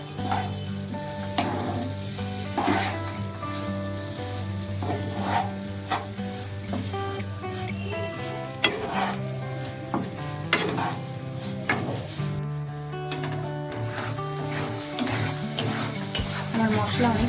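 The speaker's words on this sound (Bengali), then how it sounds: "তো 2 মিনিট মতন আমি ভেজে নেব।" Soaked rice with fried raisins and cashews sizzles and fries in a pan, with a steady hiss under repeated scraping and stirring strokes of a spoon against the metal.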